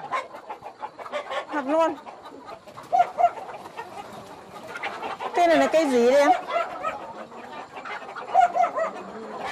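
Gà con dâu breed chickens cluck and call intermittently at a local breeding farm, close by, while people talk over them throughout.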